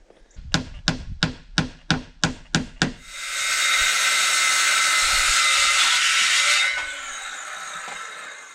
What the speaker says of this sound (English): These little battery operated saws are great for actually cutting 1-inch stock.